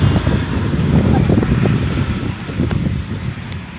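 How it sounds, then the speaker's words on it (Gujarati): Steady wind blowing and buffeting close to the microphone over farm crops during heavy rains, a constant low rumble with gusty texture throughout. "એકદમ મસ્ત ઠંડો ઠંડો પવન આવે છે"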